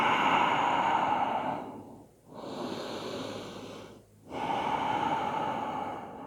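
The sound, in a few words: deep breath in during yoga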